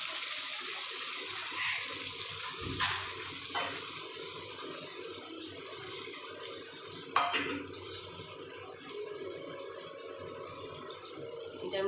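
Water is poured into a pan of cooking ginger-garlic paste, giving a soft, continuous splashing trickle with a few light clunks, faint and close.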